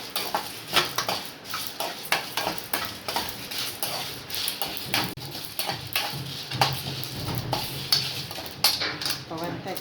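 Spices dry-roast in a pan without oil, a utensil scraping and clinking against the metal in quick irregular strokes, fairly faint, while a person talks over it.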